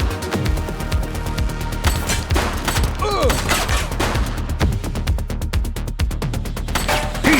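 Rapid bursts of gunfire crack out in the police video game The Precinct, with dense repeated shots and a sustained volley that fills the scene and briefly mixes with distant shouting voices.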